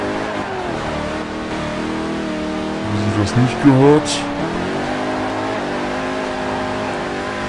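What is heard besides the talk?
car engine revving while drifting, video game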